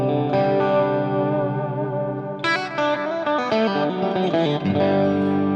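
Electric guitar played through a Fractal FM3 effects unit on a clean setting, a sustained chord ringing for a couple of seconds before a run of bright single notes and chord changes, close and steady with no talking.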